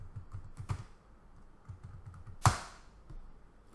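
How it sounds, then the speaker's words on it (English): A password typed on a computer keyboard: a short run of quiet, uneven keystroke clicks, then one sharper, louder key hit near the end. No one speaks. "So I'll just type in the password."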